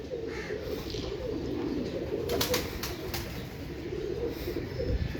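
Several pigeons of the Imam Deen breed coo in low, overlapping throaty rolls close by, with occasional wing flutters mixed into the steady murmur.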